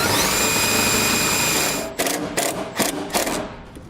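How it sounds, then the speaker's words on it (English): A power driver with a 5/16 nut driver bit runs a self-tapping screw into a metal breaker panel on a 2014 Jeep Wrangler, with a sustained loud whine followed by several sharp clicks and clatters. "I'm going to put my self-tapping screws going through the holes on our breaker."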